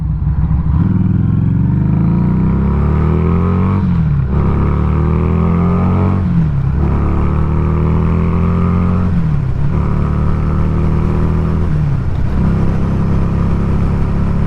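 Street 500 motorcycle cruising in fifth gear at about 4100 RPM, around 60, a steady loud engine drone with periodic dips and swells as the throttle shifts, heard close with no talk.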